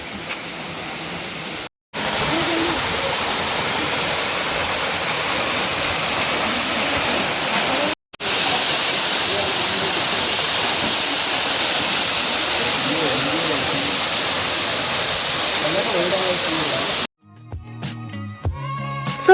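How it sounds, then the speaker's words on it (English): Rushing water at Jibhi Waterfall in Jibhi, a steady loud broadband roar close by, briefly cut twice, with a short different sound at the very end. "you will reach Jibhi Waterfall."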